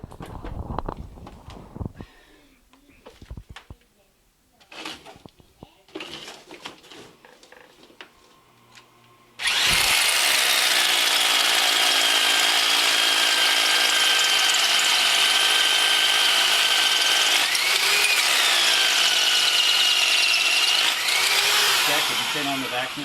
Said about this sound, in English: Today we're drilling holes.